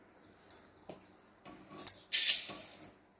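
A metal cooking pot set down on a stove for making sorrel chutney, a few light clinks followed by a bright metallic clatter and ring near the end.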